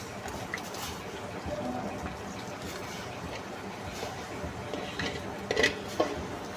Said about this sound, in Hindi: अब इसको हम मसाले के अंदर मिक्स कर देंगे।